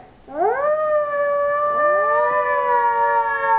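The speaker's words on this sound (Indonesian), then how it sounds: "Suara serigala satunya" A single long, sustained wolf howl rising in pitch then holding steady, clear and fairly close, with no other voices.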